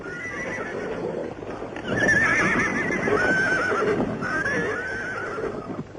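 Horses whinny loudly in a rising, wavering call that repeats, while hooves clip-clop steadily underneath, fairly close and with no voices.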